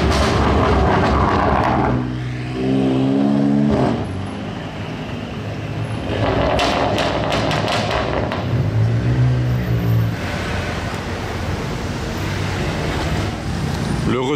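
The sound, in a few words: BMW M3 engine loudly revving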